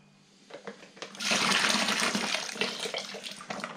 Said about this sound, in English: boiling water, just to rinse out any of the malt extract that's remaining in this packet.